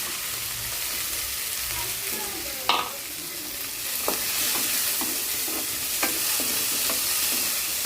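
Corn frying with browned onions in a pan gives a continuous hiss and sizzle, with a few light utensil taps and scrapes from stirring, close and steady, with no talking.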